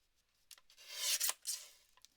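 Paper card edge being trimmed with a blade, a brief close scraping rasp that swells and fades over about a second, with a few soft ticks around it.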